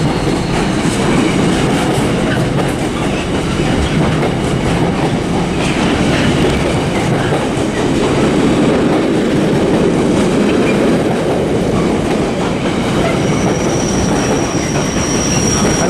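A train at Manchester Piccadilly station rumbles loudly and steadily close by, with clickety-clack wheel noise and a faint squeal of wheels, alone without talk.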